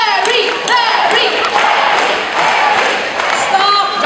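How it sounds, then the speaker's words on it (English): A bird show audience cheers and shouts loudly, a dense roar of many voices with scattered claps close by. "So you clap, but of course you shout, Barry, Barry."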